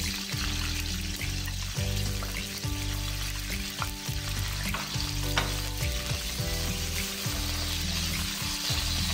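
Green pepper frying in hot oil in a pan, a dense continuous sizzle with crackling spatters and occasional stirring scrapes, close and steady throughout.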